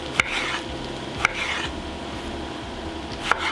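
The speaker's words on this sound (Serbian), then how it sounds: "I tako ću iseći sav patličan." A knife chops eggplant on a cutting board, giving three sharp, separate cuts spread over a few seconds. The cuts sound close over a low, steady kitchen background.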